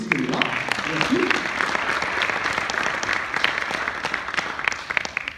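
Sustained applause from an audience at an Indian Ocean business introduction event. A steady wash of clapping runs throughout, with a brief voice at the start.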